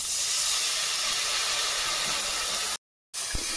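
Steady broadband hiss of chilli and turmeric powder sizzling in hot oil after a little water goes in, loud and continuous, broken by a brief silent gap near the end, followed by a faint clink.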